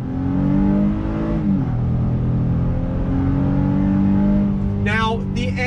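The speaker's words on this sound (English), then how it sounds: "Now, the engine is very loud. It's a very loud V6" Honda Pilot V6, a 2021 Special Edition SUV, accelerates at full throttle from inside the cabin, its engine note climbing, shifting and climbing again in a loud steady drone, with a brief voice at the end.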